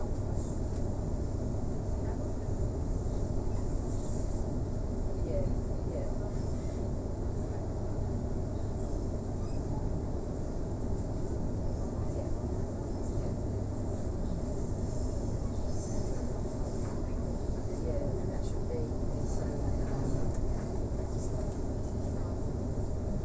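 A Sydney train runs along the rails near Redfern, heard from inside as a continuous steady rumble and hum with faint rattling, unbroken for the whole stretch and carrying no speech.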